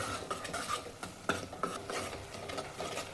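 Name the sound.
masala paste roasting and being stirred in oil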